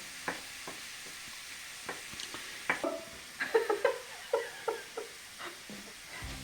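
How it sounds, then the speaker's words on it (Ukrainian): Onions frying in a pan for a beetroot salad, a soft steady sizzle under scattered clinks and scrapes of stirring, close and fairly quiet with no talking. "Поки наша цибулька смажиться,"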